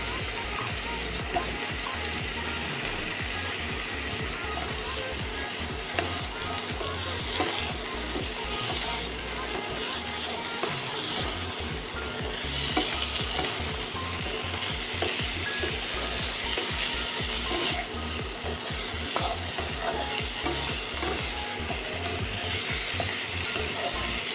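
Four diced potatoes frying in oil with onions in a pan for a Bengali potato curd curry, a loud, continuous sizzle broken by repeated scraping and clatter of stirring, with occasional faint talk.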